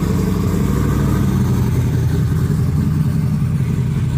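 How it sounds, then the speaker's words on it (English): A car with an aftermarket exhaust at a car show runs steadily and loudly close by, a deep throaty rumble with a sustained rev and no voices. "does this thing have a radical exhaust to it? It's got aftermarket exhaust."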